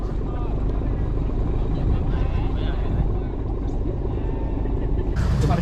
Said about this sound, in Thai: เรือออกแล้วครับออกเรือแล้วครับพี่น้องครับ